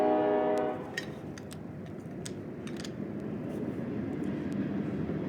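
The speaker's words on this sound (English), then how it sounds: "That train gets so loud going past here." A horn-like tone sounds briefly at the start, then a broad, steady roar carries on like a train rolling past at moderate distance.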